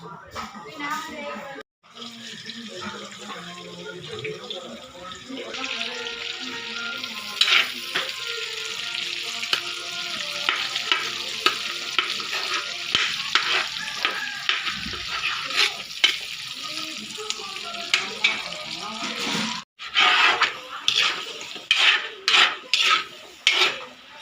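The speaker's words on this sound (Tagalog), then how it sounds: "Luto na gyud hapit ang seafoods" Seafood fries in a pan at a restaurant cooking for a birthday, a steady loud sizzle with repeated scraping and clanking stirring strokes, while people talk in the background.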